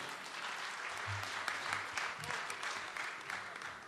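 An audience claps steadily at a 55th-anniversary jubilee celebration, a dense, sustained wash of applause heard from within the crowd, with faint voices underneath.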